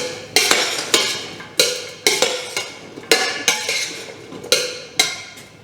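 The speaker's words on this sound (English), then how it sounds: "I'm going to stir them up together" Vegetables and tomato paste for a spicy eggplant (aubergine) chutney stirred in a pan, a spoon scraping and clinking against the metal in a steady series of about ten strokes, close and clear with no talk.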